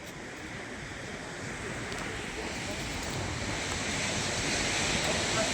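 Sea waves at a seashore make a steady, broad wash of surf with wind across the microphone, growing slightly louder over several seconds with no clear break.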